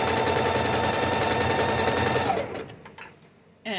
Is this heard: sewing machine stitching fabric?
yes